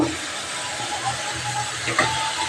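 Meat dropped onto spices in a hot pan sizzles with a loud, steady, hissing crackle that fills the whole moment without pause.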